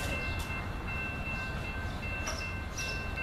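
Steady rumble of a three-car southbound commuter train with two locomotives rolling into Deerfield Beach Station close by, with a continuous low roar, thin high whine, and a few brief squeals or hisses; no talking.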